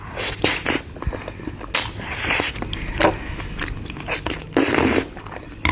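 Mukbang eating of tteokbokki with sausage and egg: close, wet chewing and biting with a few sharp crunchy bursts spread irregularly across the stretch, loud against a quiet background.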